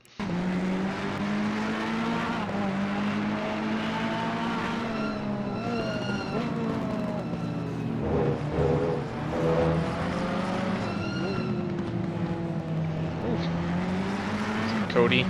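Race cars lapping the Misano circuit in a sim racing game: a steady, loud engine drone with rising and falling revs and gear shifts throughout, a few tire squeals mixed in, and a voice talking over it.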